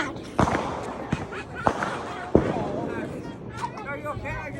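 Fourth of July fireworks go off in a series of sharp, close bangs and crackles, about four distinct blasts, while people talk and react nearby.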